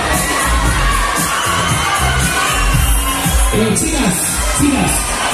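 A loud, close crowd at a dance event in Villasequilla cheers and shouts continuously, with children's voices and whoops mixed into the noise.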